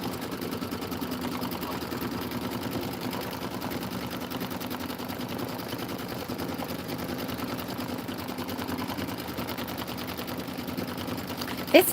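A sewing machine running steadily at 600 stitches per minute on an autumn border embroidery, giving a continuous, even, rapid mechanical whir and clatter close by, unbroken for the whole stretch.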